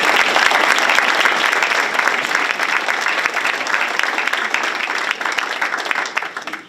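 At a board of education meeting, an audience applauds honoured coaches and players, a strong, continuous round of clapping that holds steady and then tapers slightly toward the end.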